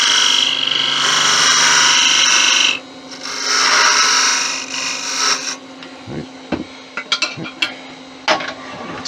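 A detail gouge cuts a teak rim on a wood lathe, giving a loud scraping rasp for a few seconds, a short pause, another long scrape, then lighter scattered scratches and taps.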